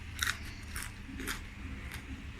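Someone bites into a crunchy homemade fried potato snack, giving four sharp, close crunches spaced about half a second apart over quiet background.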